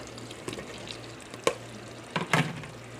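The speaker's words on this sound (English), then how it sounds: "I'm just going to stir like until it's covered" Potatoes being stirred into a simmering tomato base for potato and peas with coconut milk, gentle bubbling sizzle under a few distinct scraping, clattering spoon strokes against the pan.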